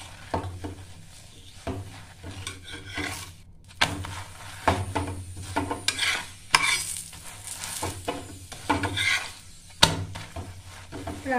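Paratha cooking on an oiled griddle, with soft sizzling under repeated scraping and stirring clatters from a utensil, close and intermittent, rising into sharper strikes toward the end.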